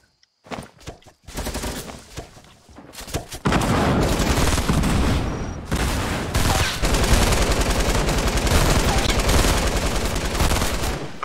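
Gunfire spraying at the player in Fortnite: a few scattered shots first, then a sustained loud barrage of rapid automatic fire running unbroken to the end.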